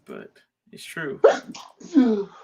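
A single sharp sneeze bursts out in the middle of men chatting casually during a football training camp Q&A, loud and close, surrounded by talk.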